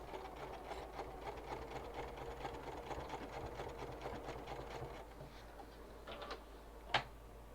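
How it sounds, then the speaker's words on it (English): A sewing machine runs steadily, stitching a zip-around pouch with white thread, in a fast rhythmic stitching sound for most of the stretch before slowing and ending with a short sharp click. "I might as well leave the white thread in. Make it look fun. Don't forget to backstitch."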